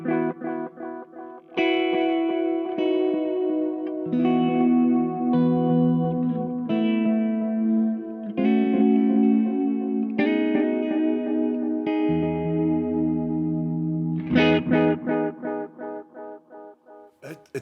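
Electric guitar through a Gurus Echosex 3 echo pedal set for more repeats, playing sustained chords and single notes that ring on with repeating echo trails and slight distortion, loud and close, with no talking.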